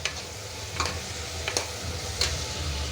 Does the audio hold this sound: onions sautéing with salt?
yes